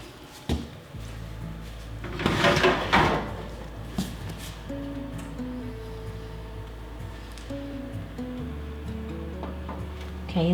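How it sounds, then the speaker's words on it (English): A cream pie on a baking sheet goes into an oven set at 350, with a clattering burst of metal and oven-door noise, then a quieter steady hum with faint tones. "We're going to put that pie in the oven on a baking sheet in case it spills."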